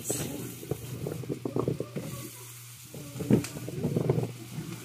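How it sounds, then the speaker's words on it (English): Shallot and apples sizzling in a pot over medium-high heat, a steady frying hiss broken by soft pops and stirring scrapes, fairly close and with no talk. "the shallot and also the apples on medium-high heat."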